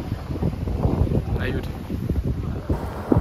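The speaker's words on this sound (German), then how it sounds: "weil es ist windig, logischerweise am Wasser." Wind gusts buffet the microphone by the water at Lake Garda in Sirmione, a rough low rush under someone speaking German close by.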